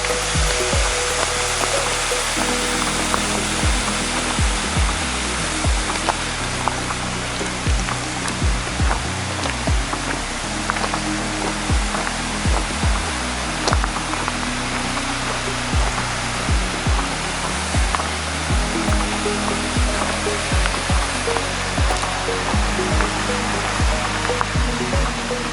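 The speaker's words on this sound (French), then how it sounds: "Une jolie petite cascade et le pont du départ." A small waterfall in a gorge by a footbridge rushes steadily, a dense, even roar of falling water heard close and unbroken throughout.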